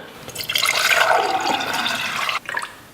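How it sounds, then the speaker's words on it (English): Rendered pork lard pours through a canning funnel into a jar, a steady close liquid stream with gurgling and filling sounds that builds, holds, then cuts off abruptly near the end with a few brief trickles. "I'm just gonna be using my canning jar funnel to hopefully keep from making a mess when pouring this in."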